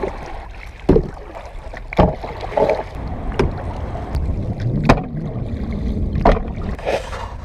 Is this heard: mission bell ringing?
no